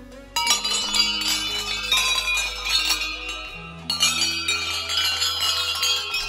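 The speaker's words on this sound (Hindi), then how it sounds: "देखिए भाई बहुत सारी घंटियां लगी हुई है" Many bells clang and chime together at Haat Kalika temple in Gangolihat, a dense, continuous ringing with overlapping metallic tones, loud and close, with a brief lull near the middle before the pealing resumes.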